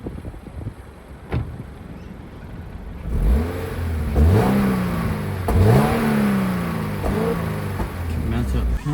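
2023 Subaru BRZ with manual transmission, its engine and exhaust revving in several rising sweeps after a quieter idle, each pull climbing in pitch then dropping, close by with some wind noise and brief talking.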